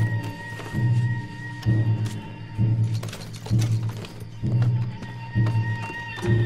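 Horses galloping in the Red Dead Redemption 2 video game, a steady repeating beat of hooves in close rhythmic bursts with occasional sharp cracks, mixed with faint game ambience.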